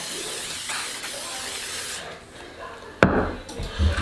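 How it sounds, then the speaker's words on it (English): Canola oil cooking spray is blown from a can over breaded Pacific razor clams, a short close hiss that bursts in loudly after a quieter stretch of background noise. "It's canola oil cooking spray."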